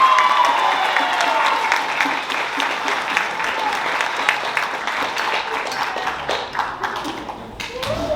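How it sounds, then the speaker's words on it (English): An audience at a school winter band concert claps warmly, a dense steady patter of many hands that thins slightly toward the end, with a voice briefly audible underneath. "So give them a round of applause."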